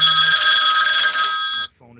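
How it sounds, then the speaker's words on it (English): A mobile phone rings loudly and steadily with a bright electronic tone, then cuts off abruptly near the end, leaving faint low background noise. "My phone is gonna ring, and I'm gonna shut that off."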